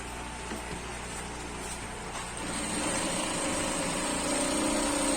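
A sewing machine stitches agbada fabric with a steady mechanical whir that grows louder and denser partway through, with no talking.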